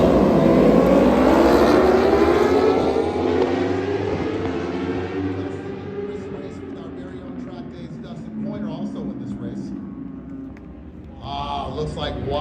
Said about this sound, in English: Looks like Wyatt got a great start into turn one.